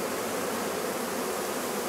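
Honey bees buzz densely around a hive during a swarm, with large drones among them, a close, constant hum with no breaks or voices.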